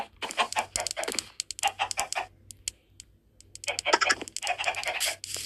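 Minecraft chickens clucking and squawking in busy bursts with short pauses, close and lively, some clicking mixed in.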